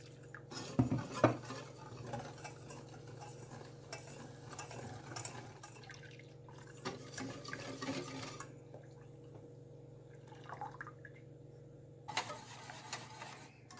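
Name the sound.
stirring custard cream of milk, sugar and cornstarch in pot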